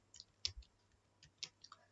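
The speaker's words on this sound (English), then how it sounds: "just randomly I'm typing the numbers." Faint, sparse clicks of keys being tapped on a computer keyboard, a handful of separate light presses in a quiet room.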